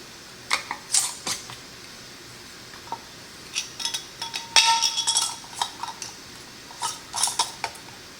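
Glass canning jars getting lids screwed on finger tight, with a series of light metallic clinks and scrapes, some clustered and brighter, fairly close with no talk.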